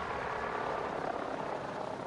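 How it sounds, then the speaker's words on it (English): A helicopter in the video game Far Cry 6, its rotor and engine giving a steady, fairly quiet drone that holds even for the whole stretch with no talk over it. "Why does the helicopter move faster when it's not being piloted?"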